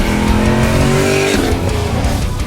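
A Pontiac G8, the US version of the Holden VE Commodore SS, drives hard with a loud, steady engine roar and tire squeal, the pitch sweeping as it accelerates and shifts, with no talk over it.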